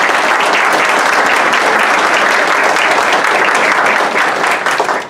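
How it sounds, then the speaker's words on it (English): An audience applauds outgoing city council members, steady dense clapping throughout that fades slightly near the end. "Let's give them a round of applause."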